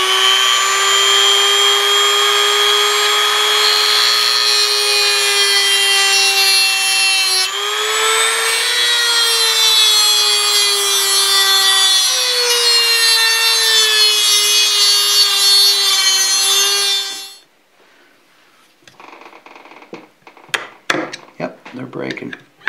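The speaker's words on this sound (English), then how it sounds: "use a little Dremel here with a little tiny cutoff wheel, very thin cutoff wheel, and in essence we're going to turn these into screws" A small Dremel rotary tool with a very thin cutoff wheel cuts slots into stuck screw heads on a South Bend shaper under restoration: a loud, steady high whine that dips in pitch, then stops, followed by light clattering.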